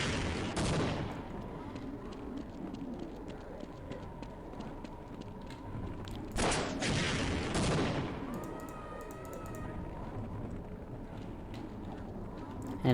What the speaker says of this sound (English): just take out the rocket launcher and start launching rockets at it